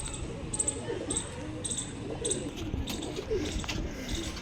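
Pigeons kept by a pigeon fancier in the Old City coo softly, with repeated short calls over a low outdoor rumble and scattered faint chirps.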